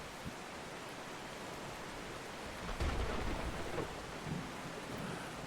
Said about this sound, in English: this is a bad storm